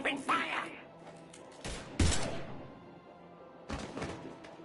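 Gunfire from Mass Effect 3 on Insanity difficulty comes in a few heavy bursts with thuds between them, mixed with voices talking.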